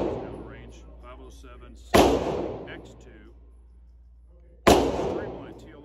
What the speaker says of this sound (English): Gonna be shooting the Shadow 2 Compact.